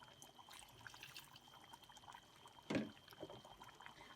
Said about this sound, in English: I'll be adding a little bit of water there